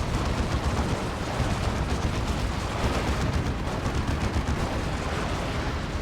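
A Bane Wolf tank's chem cannon fires in Dawn of War 2, a dense continuous roar of spraying fire and explosions amid loud battle noise, with no pauses.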